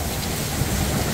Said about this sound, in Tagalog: Bigla pong umulan guys.